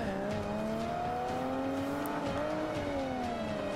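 Race car engine from the racing video game Forza Motorsport 5, a steady loud whine that holds high revs with slight rises and dips in pitch, running alone with no voices.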